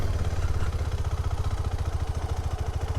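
A KTM 390 Adventure single-cylinder engine chugs close by at low revs through a slow U-turn, a rapid even pulsing throb that holds steady with slight rises, no talk.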